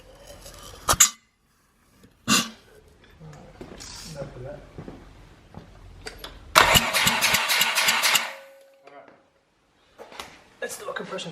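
A dirty old rotary engine cranks over for a compression test, the starter whirring in a loud bursty stretch near the middle, with clinks of tools and people talking before and after.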